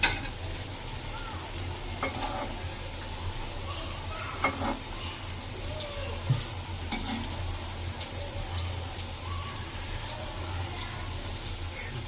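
Cabbage pakoras frying in hot oil give a steady, close sizzle with occasional light clinks of a utensil turning them in the pan.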